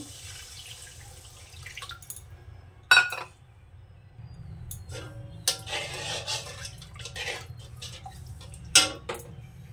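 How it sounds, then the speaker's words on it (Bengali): Small spice bowls being rinsed under running water, with intermittent splashing bursts and a few sharp clinks of the bowls over a low, steady background hum. "মশলার বাটিগুলো ধুয়ে দিলাম একটু।"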